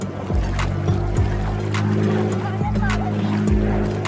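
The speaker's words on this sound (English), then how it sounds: "Seaplane." A seaplane's engine drones steadily at close range, with occasional splashing and rumbling from the water.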